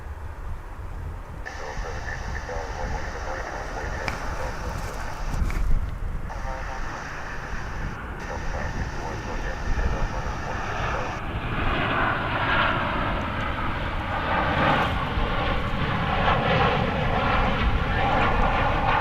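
An American Airlines jet in US Air heritage livery moves on a runway at DFW airport, its engines roaring steadily and swelling louder toward the end, with wind buffeting the microphone and a steady high whine throughout.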